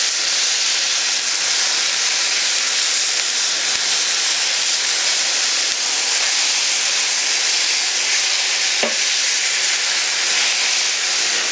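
Burger patties of island-style pork, seasoned with salt and pepper, hiss and sizzle loudly and steadily on a very hot surface after being smashed down, a constant close frying roar with a faint tap or two, no talk.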